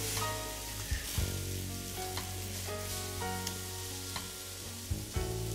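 Beef fillet steak searing in a hot pan, a steady close sizzle and crackle with occasional sharper pops and spatters and a faint tonal background underneath.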